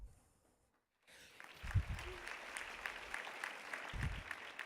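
A school assembly audience applauds veterans at a middle school Veterans Day event: after a brief near-silence, steady moderate clapping begins and holds, with a few low thumps underneath.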